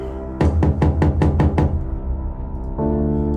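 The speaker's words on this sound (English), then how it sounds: "I knocked on the door." Six quick, solid knocks on a wooden door in a steady rhythm, close by, with a low hum continuing underneath.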